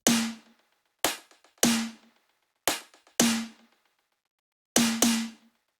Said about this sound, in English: So for this section, I'm using both the snare and the rim.